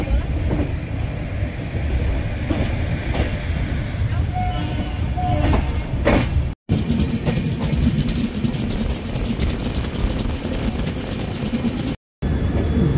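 A passenger train leaving Puri, running at speed as steady rumbling and rattling from inside a carriage, loud and continuous for the whole stretch with two brief dropouts and voices faintly underneath.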